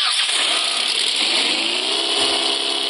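Car engine revving in a car simulator video game, a steady loud game engine drone that holds continuously throughout with no talking over it.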